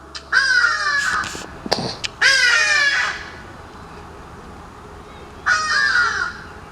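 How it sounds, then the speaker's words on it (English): Crows caw loudly in harsh, repeated bursts, a cluster of calls at the start, a pause, then another round of cawing. "And these birds, guys, are noisy."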